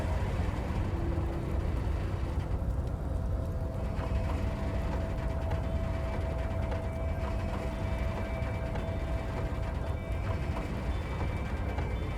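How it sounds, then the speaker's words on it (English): A crane in the Disco Elysium harbor grinds steadily overhead as it hauls a massive metal container through the air, a continuous mechanical rumble with faint ratcheting textures and sustained tonal whines, loud and unbroken throughout. "With a loud grind, the crane shifts overhead, moving a massive metal container through the air."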